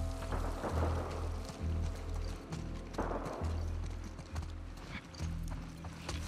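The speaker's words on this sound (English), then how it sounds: "We can use that horse." Horse hooves clip-clopping in The Last of Us Part II, a steady close rhythm of heavy hoof thuds on the ground with low rumbling underneath, no talking.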